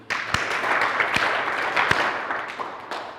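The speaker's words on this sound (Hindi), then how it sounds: "3 ताली मार दीजिए।" Several people clap together during a Hindu mantra chanting ritual, with a few sharp claps standing out over a dense, steady bed of clapping that runs through to the end, with no voices.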